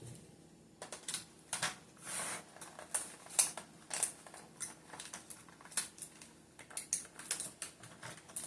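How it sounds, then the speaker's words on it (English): Adhesive tape is pulled off and pressed down onto the lid of a gift tumbler with a straw, giving a run of short, crackly tearing and tapping bursts at moderate volume with no voices. "So I'm going to tape that down so it can be still."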